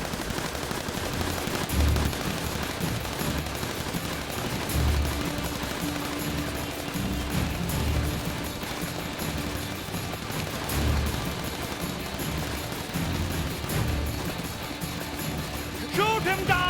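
Steady rapid gunfire from a video game set in 1841 CE in the Sikh Empire, bursts rattling loud and continuous throughout under layered game sound.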